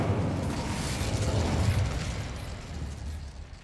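A fire spell being cast in Hogwarts Legacy, a loud, steady rushing roar of flame with a deep rumble that holds for several seconds and then slowly eases off.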